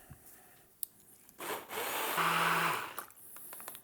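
Coriander vinaigrette mixed in a kitchen with a blender, a short whirring burst of about one and a half seconds after some faint handling clatter, fairly quiet and alone.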